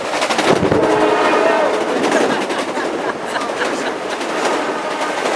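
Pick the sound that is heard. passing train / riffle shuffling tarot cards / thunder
passing train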